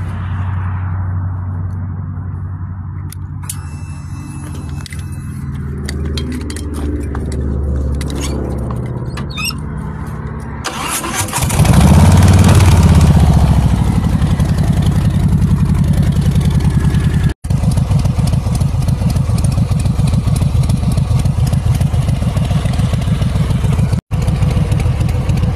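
A small motorcycle engine starts after some quiet shuffling and then settles into a loud, steady, close idle that carries on to the end.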